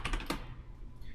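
A password typed on a computer keyboard, a brief quick burst of a few close, light key clicks that fade into quiet room tone.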